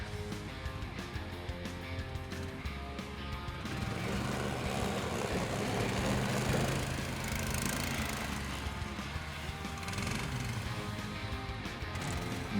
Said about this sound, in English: Norca sled with 20 HP engine.